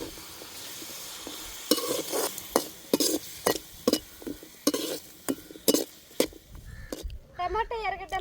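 Cumin seeds sizzle in hot oil in a frying pan while a spoon stirs them in repeated scraping, tapping strokes, with a brief burst of talk near the end.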